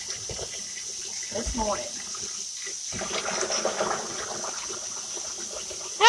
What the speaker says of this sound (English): We'll just pour some in here. Make some dish water.